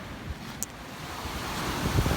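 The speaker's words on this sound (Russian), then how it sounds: "Это ж море." Waves wash onto a warm seashore where people are swimming, a steady broadband surf rush heard close by with strong wind buffeting the microphone throughout; no talking.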